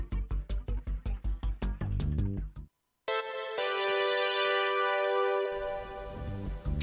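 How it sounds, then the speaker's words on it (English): Brass sample at pitch 6 from the Magix Music Maker sound pool, a sustained bright brass chord after a short rhythmic intro, loud and alone with no talking. "And I'm going to use the brass section"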